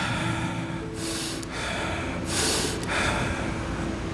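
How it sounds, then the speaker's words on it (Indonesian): Two or three sharp, breathy inhalations rush in close to the microphone at a religious talk, each a deep breath drawn through the nose over a steady hum. "Kita tarik nafas."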